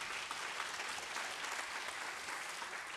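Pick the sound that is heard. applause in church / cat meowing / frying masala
applause in church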